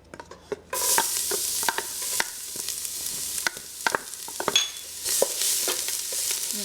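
Chopped garlic hits hot oil with a sudden loud sizzle, then keeps up a steady crackling fry broken by repeated stirring scrapes and clicks of a utensil against the pan.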